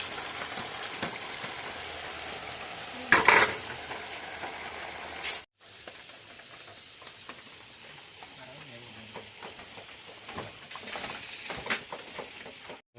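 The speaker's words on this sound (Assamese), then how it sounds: "ইয়াত মজাকৈ উতলি আছে" Tomato fish curry bubbles and sizzles steadily in a pan while being stirred, a continuous close hiss with scraping strokes and a brief louder clatter early on.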